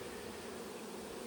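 A dense, steady buzz of many honey bees from an opened hive with brood frames hums continuously at close range, with no voices.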